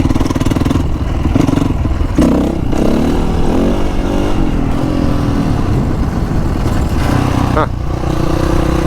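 A Honda CRF450R dirt bike ridden around a lot: a loud, close engine drones on throughout, with the revs rising and falling and a brief spoken exclamation.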